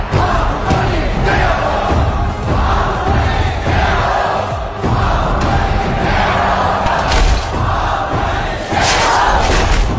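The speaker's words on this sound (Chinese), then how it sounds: "每一个勇士都在用他们全身的力气跟着呐喊" A large crowd of warriors shouting and roaring together in a film scene, a dense, loud, sustained mass of voices with swelling peaks and occasional thuds throughout.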